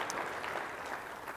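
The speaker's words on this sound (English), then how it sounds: "Let's give them a round of applause." Brief audience applause at the Ex-Im Bank annual conference, an even, fairly quiet wash of clapping lasting just over a second.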